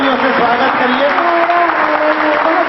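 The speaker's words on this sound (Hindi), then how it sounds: "जरा एक बार जोरदार तालियों से स्वागत करिए" Welcome applause from an audience at a Hindi poetry recital, a steady wash of clapping filling the whole stretch, with a voice speaking over it.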